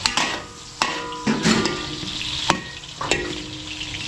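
Onions frying in a pan while catering at a private resort in Muntinlupa. A close sizzle is broken by sharp clacks of a utensil against the pan as the onions are stirred.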